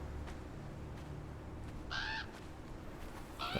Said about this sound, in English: That's called a bird, sir.